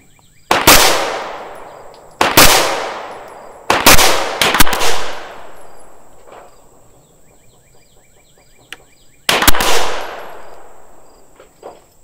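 Pistol shots at an outdoor shooting range, five sharp loud cracks in an uneven sequence, two close together, each ringing out with a decaying echo, with quiet gaps between them and no talking.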